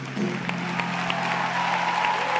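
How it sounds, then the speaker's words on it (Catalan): A thunderous standing ovation in a theatre for actor Jordi Bosch after 'La Bête' at the TNC: dense, continuous applause from a large crowd, with a low steady hum beneath it. "Després d'uns aplaudiments retronants i de peu dret, aclaparadors per Jordi Bosch"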